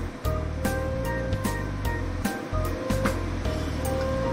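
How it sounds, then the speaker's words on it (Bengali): Capsicum and other vegetables fry in hot oil in a home kitchen while veg hakka noodles are being made. The sizzle is a steady, close, fairly loud hiss, broken by regular utensil taps and stirring knocks. "এবার সমস্ত সবজিগুলো খুব ভালোভাবে তেলের মধ্যে নেড়ে চেড়ে ভেজে নেব।"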